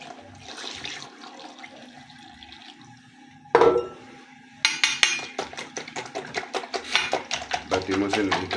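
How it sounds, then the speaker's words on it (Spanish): Milk, with condensed milk added, is whisked vigorously in a bowl for microwave leche asada, giving rapid rhythmic clinking and sloshing strokes that begin abruptly after a sharp clatter and continue loud to the end. "Batimos enérgicamente."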